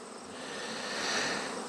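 Honeybees swarming close around a beekeeper, a dense, steady buzzing drone that swells slightly louder midway through the brief moment, with no talking.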